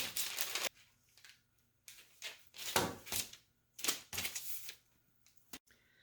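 Bread dough for hamburger buns being cut into eight pieces on a board, a series of separate close knocks and chops with short quiet gaps between them, no talking.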